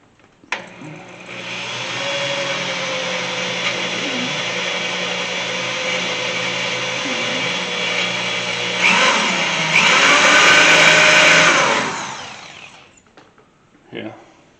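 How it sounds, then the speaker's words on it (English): A power drill bores a pilot hole in metal on a 1983 Chevy C30 truck bed, whirring steadily for several seconds with a dull bit, its pitch rising and straining briefly near the end before stopping, followed by a short clunk. "So I'm just going to drill a little pilot hole."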